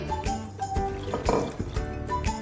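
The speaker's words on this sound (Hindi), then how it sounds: "अभी आधा कप हमें पानी और डालना है।" Water poured into a cornstarch mixture for homemade falooda sev makes a steady, close liquid splashing and gurgling with small drips throughout, and no voices.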